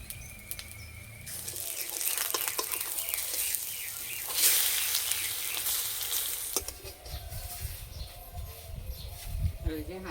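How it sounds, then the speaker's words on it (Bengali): Small gram-flour fritters frying in oil in a wok, sizzle and bubbling with stirring clatters and a brief louder burst, with faint background noises throughout. "বেসন মাখার জন্য কড়াইয়ে তেল দিয়ে দেব। এবার ছোট ছোট বড়া ভেজে নেব।"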